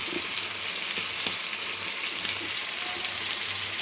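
Chorizo for fajitas hisses loudly in a hot frying pan, a dense, even sizzle with scattered small pops, close up and uninterrupted by voices.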